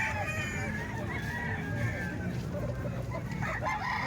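A young Ball gamefowl stag at a rooster farm in Calumpit crows with one drawn-out crow over a busy yard of other fowl and low background noise.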